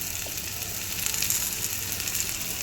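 Minced garlic hits a hot pan of cooking chicken tikka masala and fries in a steady, bright, continuous sizzle that swells slightly midway, with no talking.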